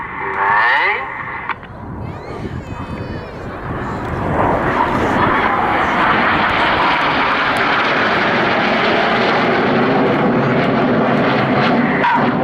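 Aerobatic display jets at the 2015 Southport Airshow, a loud roar building as they pass close overhead and holding steady, with a commentator talking over a public address early on.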